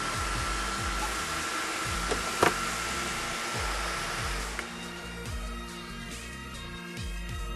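An asymmetric brushless motor drives a fan at about 2900 RPM, making a steady, loud whirring drone with a constant hum and a couple of faint clicks, with no speech over it.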